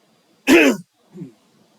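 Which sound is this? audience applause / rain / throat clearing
throat clearing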